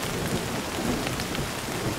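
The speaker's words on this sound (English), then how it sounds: "Car shaking. We can't sleep. It's a heavy storm." Heavy rain from a storm drums on a campervan roof, a dense, constant hiss and patter that stays loud and unbroken throughout.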